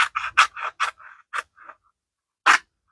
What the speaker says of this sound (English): And I'm just going to cut it with my scissors